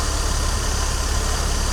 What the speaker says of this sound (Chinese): 怠速很稳定没有问题怠速很稳定但是车子就是没力真的伤脑筋了。